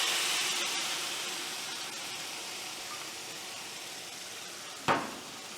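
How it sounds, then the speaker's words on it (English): Mexican rice mixture poured into a very hot pot sends up a broad, steady steam hiss that slowly fades, with one sharp knock near the end. "we're going to add our mixture here, but be careful, the pot is very warm and it will create a lot of steam"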